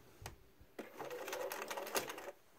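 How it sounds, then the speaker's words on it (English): A Bernina 1230 sewing machine fitted with a zipper foot stitches a short seam in cording, a soft rapid mechanical whir with quick needle clatter lasting about a second and a half after a couple of light clicks. "I'm just using a zipper foot and getting ready to just sew a little seam right down that line."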